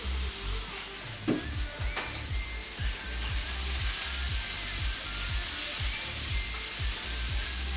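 Steady, loud sizzling of seasoned chicken pieces browning in a pan, with a rhythmic scraping of a utensil stirring throughout and a couple of brief clinks.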